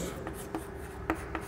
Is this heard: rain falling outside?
no